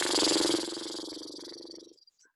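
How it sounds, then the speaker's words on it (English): A single lip-flutter exhale during yoga breathing makes a buzzy, rattling breath close to the mic, starting strong and trailing off over about two seconds. "Let's come into 3 deep breaths and flutter our lips."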